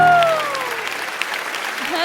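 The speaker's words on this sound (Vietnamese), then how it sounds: "Xin một tràng pháo tay nồng nhiệt cho em trai thưa quý vị." Audience applause for a young piano prodigy on a televised talent show, a steady broad wash of clapping filling the short moment, with a voice speaking over it.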